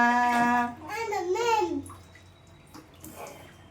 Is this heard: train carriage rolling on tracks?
no